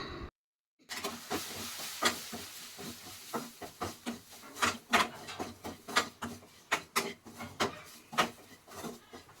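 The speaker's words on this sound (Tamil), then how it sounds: "இப்போ எல்லாத்தையும் சேர்த்து நல்லா வதக்கிக்கிறோம்." Spices for chicken sukka sizzle and crackle in a hot pan as they are sautéed, with close, irregular pops and spatters rising over a steady hiss after a short silent start.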